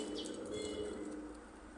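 Pigeons of a fine, high-quality breed on a farm in Punjab, with a soft steady coo and some chirping over a continuous low background hum that runs through the whole stretch, with no talking.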